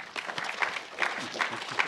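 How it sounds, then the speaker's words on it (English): An audience at a digital partnership conference opening session gives a warm round of applause for an AI innovation director, moderately distant clapping from a smallish crowd with a loose rhythm and a few sharper claps standing out. "Let's give a warm round of applause for Mr."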